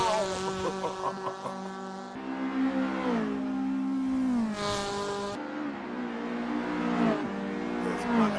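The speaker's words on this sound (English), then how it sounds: "Oh, and that golf sounds amazing." Volkswagen Golf GTI race cars in the 2025 SRA VW GTI Challenge wind their engines up and down through the gears on track, a loud buzzing climb with sharp shifts and tyre squeal, while a commentator talks over it.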